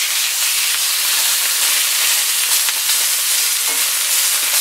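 A ribeye steak sears in a hot pan with a loud, dense, continuous sizzle and hiss, close up and steady throughout.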